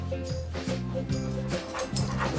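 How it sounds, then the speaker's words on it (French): A pet dog gives short yips and whimpering barks close by, in a quick broken run over a few seconds with a faint background murmur. "Un chien répondant au nom de Théo"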